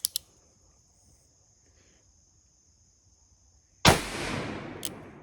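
A Pietta Colt 1851 Navy revolver fires a single loud, sharp shot late on, trailing into a long decaying boom outdoors, after near silence broken only by a faint click and a steady insect-like whine.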